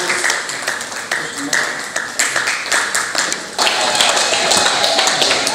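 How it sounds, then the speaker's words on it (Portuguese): A strong round of applause for the accounting and auditing graduates at a diploma ceremony, dense clapping from a crowd that swells louder partway through and carries on steadily. "Uma forte salva de palmas para o curso de contabilidade e auditoria."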